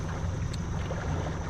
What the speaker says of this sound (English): Right there, I'm just at idle. I'm just idling up through here. It says I'm running about 700